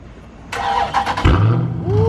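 A Dodge Charger Hellcat with a supercharger fires up and revs hard on a street in Atlanta, a loud, close engine roar rising into a deep throaty rumble that holds steady, with a brief whine near the end.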